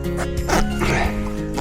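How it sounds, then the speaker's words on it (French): Dog barking and yipping outdoors on a muddy walk, a few short bursts close by under steady background noise, with a faint voice now and then. "T'es un mauvais chien."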